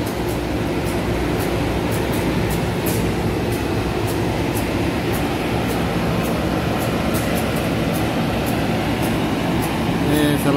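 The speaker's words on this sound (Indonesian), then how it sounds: "Ini kereta komuter." Walahar commuter train waiting at a station on the Cikarang–Purwakarta line, a steady loud rumble of idling engine and air conditioning with faint clicks and rattles throughout.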